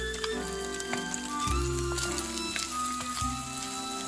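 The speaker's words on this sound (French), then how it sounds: "Ajoutez les poireaux, remuez pendant 1 minute." Leeks stir-fried in a hot wok for Taiwanese braised pork, with a steady crackling sizzle and the clanks and scrapes of a utensil stirring, close and moderately loud, with background music.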